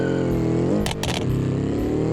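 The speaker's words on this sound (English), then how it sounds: "Nice squeaky tyres and brakes." Car tyres squeal in the driving game BeamNG, a couple of sharp, loud bursts of squeaking close together over a steady engine rumble that continues afterward.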